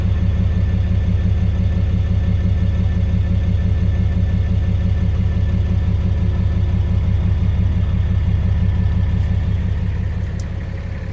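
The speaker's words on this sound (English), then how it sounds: "This is where you get all your diesel and motor noise and where it sounds like a truck." A 2008 Cummins 6.7L diesel truck engine idles steadily, a loud, close, low rumbling throb with an even pulse that holds for the whole stretch and eases slightly near the end, no talking.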